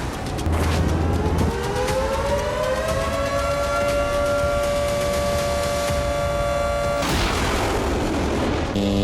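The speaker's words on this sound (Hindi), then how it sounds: "हूती के हाइपरसोनिक बैलिस्टिक मिसाइल हमलों से पूरे इजरायल में सायरन गूंजने लगे।" A loud wailing air raid siren in Israel, sounding during a ballistic missile attack, rises and holds a long steady tone over dense rumbling noise, with a heavy burst near the end.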